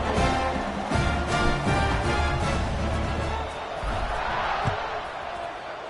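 A football stadium crowd roars steadily at a kickoff, probably in a video game, a dense and loud wash of cheering with a commentator talking over it.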